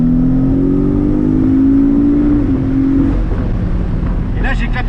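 A Porsche Cayman 718 four-cylinder engine with its exhaust valve open sends out a loud, steady droning rumble with a slowly shifting tone, heard close up from inside the moving car with some wind noise.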